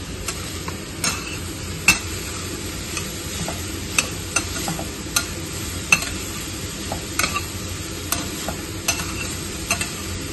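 Grated red pumpkin and ash gourd are sautéed in a pan for a traditional Nagpur sweet, with a constant low sizzle and a steady run of sharp spoon taps and scrapes against the pan.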